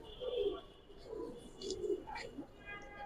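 Jabra Pankhi Giribaz pigeons, including a large male, give soft low cooing calls close by in a quiet indoor setting, a few rounded coos in succession with faint background noise.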